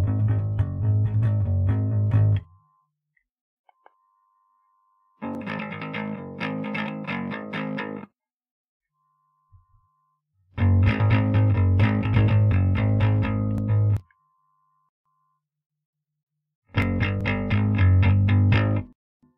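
Electric guitar played through a Rick-O-Sound circuit, heard in four separate strummed passages with heavy effects and distortion, each a few seconds long and divided by silent gaps, loud with no voices.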